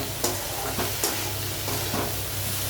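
A breakfast dish seasoned with chaat masala is stirred in a hot pan: a steady frying hiss with several distinct scraping strokes of a spatula, close and alone.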